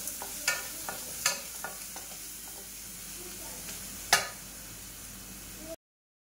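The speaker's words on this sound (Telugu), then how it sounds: "కొంచెం పసుపు, పచ్చిమిర్చి ఈ యొక్క వాసన స్మెల్ పోయేంత వరకు బాగా వేగనివ్వాలండి." Turmeric and green chillies fry in a pan for lemon rice, giving a soft continuous sizzle with a few scattered clinks of a spoon against the pan, close and quiet before cutting off.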